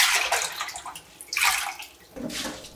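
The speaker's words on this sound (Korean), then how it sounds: "물에 3번 정도 깨끗이 씻어" Lettuce leaves are swished and rinsed by hand in a bowl of water, giving splashing and sloshing in uneven bursts with short pauses. The sound is close and moderately loud, with no talking.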